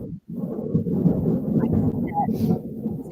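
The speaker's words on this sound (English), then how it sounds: "is it raining by you? Is that thunder?" Thunder from a lightning strike rumbles low and steady for about three seconds after a brief silence, fairly loud and rolling, with faint higher sounds over it.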